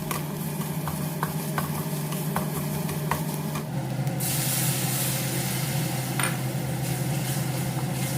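Red curry paste, about two tablespoons, stir-fried over gentle heat in a pan for a Thai spicy catfish stir-fry, a steady hiss with scattered scraping clicks, then a brighter louder sizzle and rush as a little water goes in.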